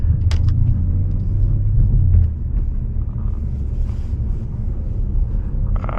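A Jeep SRT rolls slowly while backing into a parking spot, its engine giving a deep, steady rumble close by, heaviest early on, with some wind buffeting the microphone.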